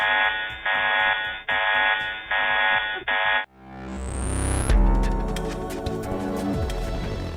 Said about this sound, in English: suddenly, an alarm rings and calls for their undivided attention